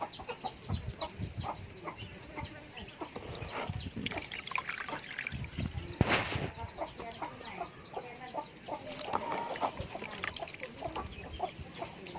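Chickens cluck in short, scattered bursts, some near and some farther off, over a steady background of trickling water. No one speaks.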